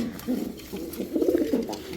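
A racing pigeon coos in a few soft, throaty bursts, close by, over low background noise.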